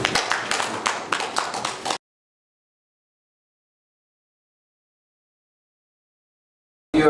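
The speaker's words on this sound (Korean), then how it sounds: "큰 박수로 맞아주시기 바랍니다." An audience at a Korea–US business friendship forum claps to welcome a speaker to the stage, a short burst of fairly close, rhythmic clapping that cuts off into silence, with a brief return at the very end.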